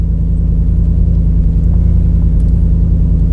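A Volvo S80 with a Yamaha V8 engine idles just after starting, a loud, steady low rumble with an even pulsing beat close by and no talking.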